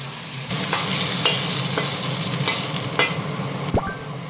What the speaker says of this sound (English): Over the highest heat, quickly break up the beef and as it cooks